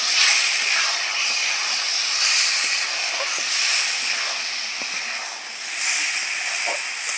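Ghee hissing steadily in a pan while besan laddu cooks, a continuous broad sizzle with faint scraping clicks, close and moderately loud, no talking.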